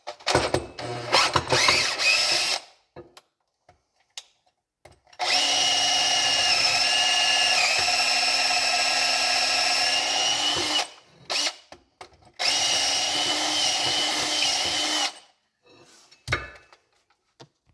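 A battery drill bores into a survival axe handle in long, loud, steady whining bursts of several seconds each, separated by short pauses and clattering handling noises, close by with no talking.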